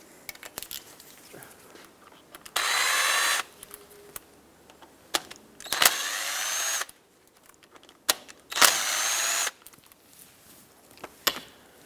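A power tool with a socket spins off wheel hub bolts on a 2008-2010 Ford F-450 Super Duty. There are three loud, high whirring bursts of about a second each, with clanks and handling knocks between them, close by.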